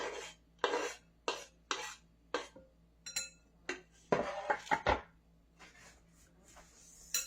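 Chopped onions dropped and scraped from a board into a coleslaw bowl, with a series of sharp, close taps and knocks, then a cluster of clattering scrapes and lighter rustling handling noises afterward, no talking.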